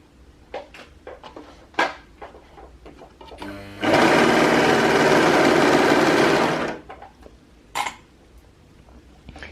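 Overlocker stitching a seam on True Bias Hudson pants with a 3/8-inch seam allowance, a fast, loud, continuous whir lasting about three seconds, framed by quieter clicks and fabric handling before and after.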